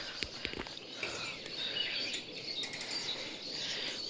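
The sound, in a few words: birds chirping at dawn in village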